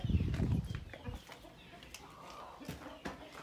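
Broody Gurk hens clucking close by, with a louder burst of low clucks at the start followed by scattered softer clucks and rustling.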